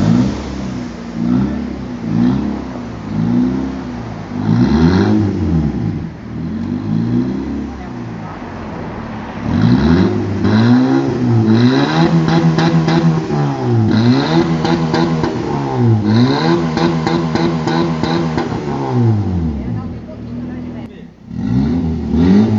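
A stock Honda Civic Si engine revs up and down in repeated loud bursts, then the car accelerates past close by with rising and falling engine pitch over roughly twenty seconds, with voices talking in between.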